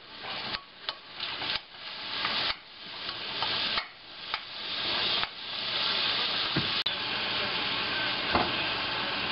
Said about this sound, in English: So you stir, mix it together with the onions and peppers and garlic